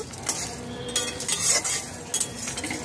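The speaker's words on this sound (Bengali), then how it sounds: "লো টু মিডিয়াম ফ্লেমে ভেজে নেব" Whole spices are dry-roasted in a pan over a low to medium flame, with a handful of quick spatula scrapes and rattles against the metal and faint frying hiss underneath, near and without talk.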